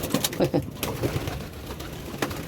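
Pigeons kept in a loft coo softly and repeatedly at close range, with brief fluttering bursts among them and a steady background murmur.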